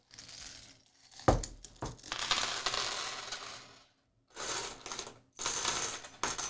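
A solid silver coin is dropped several times, each fall giving a bright metallic clink and a lingering high ring, with quiet gaps between the drops.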